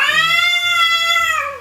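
A house cat meowing loudly, one long drawn-out insistent cry held for over a second with a bent ending, very close, with faint low background sounds beneath.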